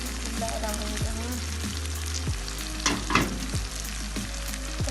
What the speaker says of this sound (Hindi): अब हम इसमें दही शामिल कर रहे हैं।